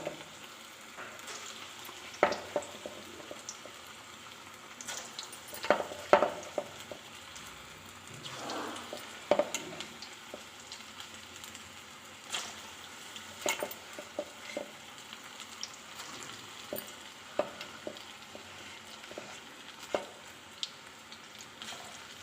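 Urad dal vada batter balls fry in hot oil with a steady sizzle and crackle, louder bursts rising as each ball drops in, with no talking.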